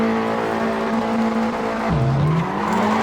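A grid of Audi TT Cup race cars launches from the standing start, with loud, continuous engine roar and revving, a dip and rising pitch as gears change, and tyre noise mixed in.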